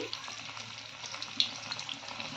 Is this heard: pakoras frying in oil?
yes